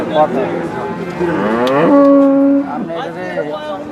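At a busy cattle market for milk cows, a cow lets out a loud, drawn-out moo close by, rising then holding steady, with other lowing and crowd murmur around it.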